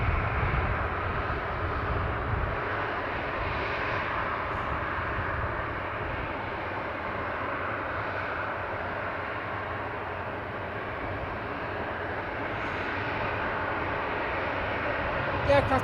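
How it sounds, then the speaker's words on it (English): A Ryanair Boeing 737-800 at Manchester Airport produces a steady, broad roar that holds at a constant level throughout, sounding at moderate distance with no clear build or fade. "We've got Ryanair going to Dublin. Boeing 737-800, registration 9H QEP."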